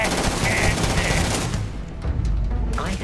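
Rapid automatic gunfire in the video game Starfield rattles in loud continuous bursts, then thins to scattered shots and impacts amid game combat noise.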